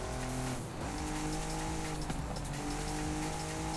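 Noble M400 driving in Forza Horizon 5, a steady loud engine drone with gear-change shifts and brief tire squeal as it corners at speed, no talk.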